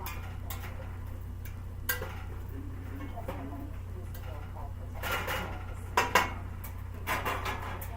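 A spoon scraping and clinking in a soup pot while onion chunks and seasoning are stirred for a vegetable soup base, with light scattered clinks and a few louder knocks near the end over a low background hum.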